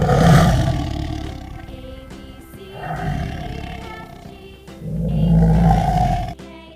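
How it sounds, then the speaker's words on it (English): A tiger roars in several long, loud, throaty bursts that rise and fall, close and dominant with no talk over them. "T for tiger"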